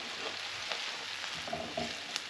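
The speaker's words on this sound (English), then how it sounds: "So I'm just going to stir all that together." Beef stroganoff with mustard frying in a pan while being stirred, a soft continuous sizzle with a few light scraping and clicking spoon sounds, no talking.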